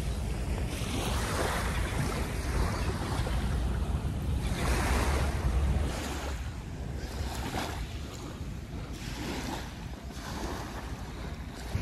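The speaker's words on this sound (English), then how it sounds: "Let's take a look out at the sea and these sweeping waves." Sea waves at Devonport or Takapuna, Auckland, roll in and wash back in repeated surges, with a constant rushing roar and wind buffeting the microphone.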